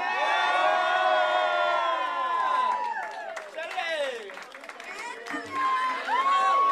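A crowd at a San Antonio music showcase cheers, whistles and claps for a conjunto accordionist, a loud, dense swell of shouts and applause that dips briefly and then surges again.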